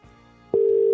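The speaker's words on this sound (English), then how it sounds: "So head to the mic, dial the number in." A phone line picks up as a number is dialed in: a faint low hum, then a single steady electronic tone of about half a second, sounding alone.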